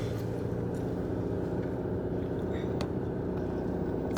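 A car driving through downtown Luxembourg, giving a steady low interior road rumble and engine drone throughout, with a few faint clicks and no talk.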